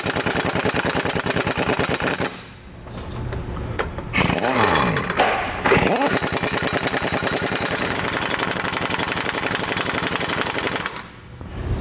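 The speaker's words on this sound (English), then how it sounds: "Then we'll come back with that 1 1/8 socket, and we're going to tighten up all the nuts." Nuts on a U-bolt being tightened with a 1 1/8 socket while installing a Roadmaster rear anti-sway bar on a 2019 Newmar motorhome; loud, rapid mechanical hammering in long bursts with a couple of brief pauses between them.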